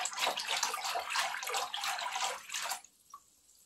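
Warm water with a drop of dish soap splashes and sloshes as a stitched Halloween gnome project is hand-washed, loud and close for a few seconds before stopping, leaving a single faint drip.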